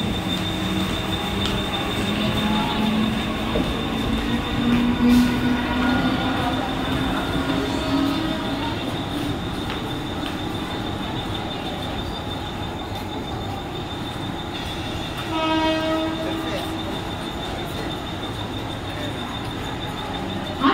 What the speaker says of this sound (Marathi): प्लॅटफॉर्म क्रमांक 3 पर आई हुई लोकल 8:37 की अंबरनाथ जाने वाली तेज लोकल है।